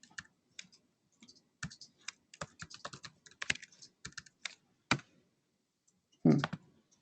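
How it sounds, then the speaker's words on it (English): Keys on a computer keyboard tap out a password in irregular bursts of crisp clicks, with one heavier thump near the end, close and clear with no talking. "you do have to type in the correct password. All right, one more try."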